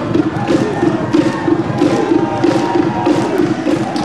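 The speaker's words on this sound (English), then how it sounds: "All the Islanders cheering for the Samoans today." Samoan and Pacific Islander rugby fans cheer from the stands at a Canada versus Samoa match at UBC, a loud, continuous crowd roar with rhythmic rising surges and chant-like pulses.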